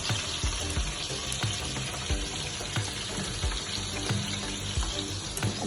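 Corn fries in hot oil behind a splash guard for crispy corn, spattering and crackling loudly and without a break, with dense close pops all the way through.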